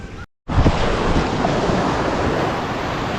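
Sea waves wash steadily onto the shore, a broad continuous rushing surf with wind noise on the microphone, briefly cut to silence near the start, then sustained without voices.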